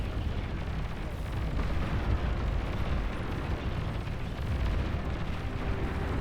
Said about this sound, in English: Anti-nuke intercepts nuclear missiles being launched. Catapults as well. The rockets.